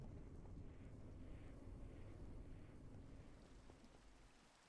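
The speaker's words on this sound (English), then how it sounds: "Raining." Steady rain in the TerrafirmaGreg Minecraft modpack video game, a continuous dense hiss with low rumbling underneath that fades slightly toward the end.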